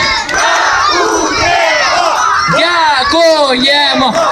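A large crowd of children from Debaltseve shouts together on cue at the Pampukh festival in Lviv. The loud, sustained collective yell swells into rising whoops toward the end.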